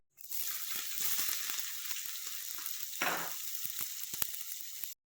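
Chopped onions, already browned, fry for a spicy prawn curry with a dense crackling sizzle close by, punctuated by sharp pops and a brief louder burst midway, then stopping abruptly.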